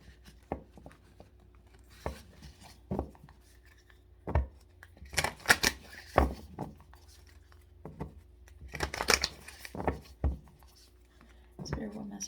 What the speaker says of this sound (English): So let me do a couple shuffles here.